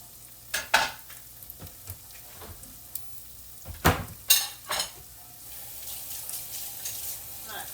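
Taco meat browns in a hot pan, a low steady sizzle broken by sharp scrapes and clacks of a utensil stirring against the pan, several louder knocks near the middle.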